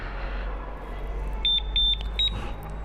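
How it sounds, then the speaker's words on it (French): A motorcycle disc lock alarm gives a few quick high confirmation beeps, faint against a low background hum, with no talking. "il vous donne quand même un bip de confirmation"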